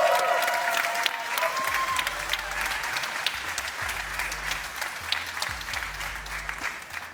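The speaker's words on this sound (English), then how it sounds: "Ladies and gentlemen, a big applause for the all-new GLC." Audience applause at the world premiere of the new 2026 Mercedes GLC, a dense steady clapping across the whole stretch with a low rhythmic music beat underneath, loud and close, gradually easing slightly toward the end.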